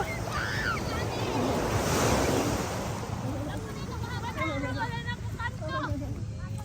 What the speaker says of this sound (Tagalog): Ginulat kami ng alon.